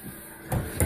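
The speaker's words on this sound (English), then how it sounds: "Close the door." A door shuts during a Halloween outing, giving two short thuds close by, the second one louder, over low background noise.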